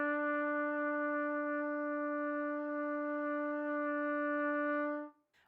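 A single sustained trumpet note, E, held steady for about five seconds, clear and bright, then cut off cleanly.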